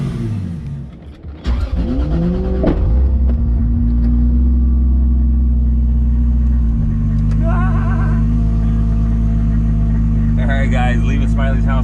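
A Toyota Supra fitted with a full exhaust starts and settles into a loud, deep, rumbling idle close by, with a brief rev near the start and people talking over it.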